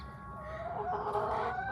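A hen clucks close by in a short, soft run of throaty calls, with no talk over it.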